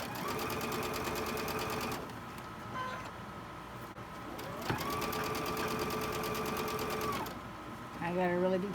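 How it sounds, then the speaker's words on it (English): A sewing machine stitching a quilt block seam, running in long steady whirring bursts with a brief pause between runs, close and clear, ending with a few short sounds. "We'll sew this side."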